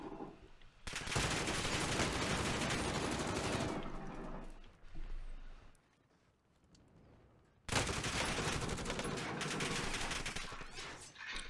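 Heavy sustained gunfire roars in a zombie royale shooter game, loud and dense for several seconds. It drops away briefly, then resumes just as intensely.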